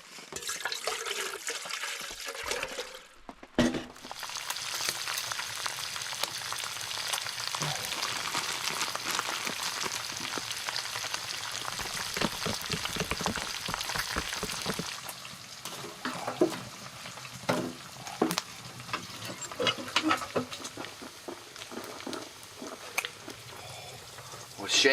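Thick-cut bacon frying in a pan at a campsite, giving a steady, broad sizzle that runs nearly throughout, with brief clatters and shaking noises near the end and a voice talking now and then over it.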